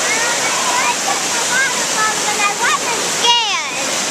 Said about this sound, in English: I climbed up the waterfall when I wasn't scared